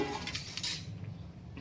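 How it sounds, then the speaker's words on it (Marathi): Grated coconut and chutney ingredients, for a curry leaf chutney, are tipped into a mixer jar, with a few light clinks and scrapes of a spoon against the jar at the start, then only quiet kitchen background. "हे सगळं असं मिक्सरच्या भांड्यात काढून घ्यायचं"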